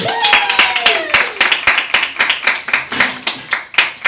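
Podcast hosts and a small audience in a basement studio clap in a steady rhythmic beat, sharp close hand claps repeating at an even pace, with voices calling out and talking over them.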